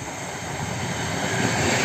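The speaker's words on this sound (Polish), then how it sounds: "to pociąg z góry Kalwarii do Warszawy" A passenger train rushes past nearby at Czachówek station in Poland, a loud continuous roar of wheels and motors swelling steadily over a couple of seconds.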